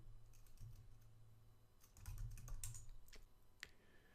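Quick clicking keystrokes on a computer keyboard as the ssh-keygen command is typed into a Linux terminal, a close, fairly quiet burst of taps ending in a few firmer key presses.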